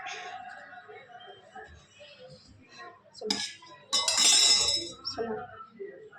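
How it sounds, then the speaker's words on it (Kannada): A ladle cuts through a cheese-filled roti in a pan, with light metallic clinks and scrapes, then a louder burst of scraping and clatter near the middle, close by and mixed with a voice speaking. "ಚಾಕು ಬೇಡ ಏನು ಬೇಡ ಸುಮ್ಮನೆ ಈ ಥರ ಸೌಟಿಂದ ಕಟ್ ಮಾಡಿದ್ರೆ ಆಯಿತು"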